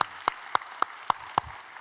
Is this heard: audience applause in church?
yes